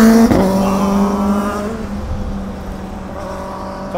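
A motorbike speeds past on a street in Higashi-Osaka, heard from a bicycle: a loud, close engine whine that falls in pitch as it passes, then fades into distant traffic.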